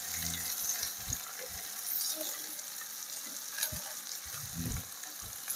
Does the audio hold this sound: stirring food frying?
yes